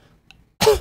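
A single throat clearing or cough, loud and close, comes as one short harsh burst after a near-silent lead-in, with no talk around it.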